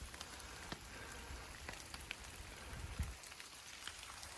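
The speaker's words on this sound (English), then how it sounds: "It's been raining for 2 solid days." Steady rain falls on the Appalachian Trail in cold, windy weather, a faint continuous patter with occasional louder drops.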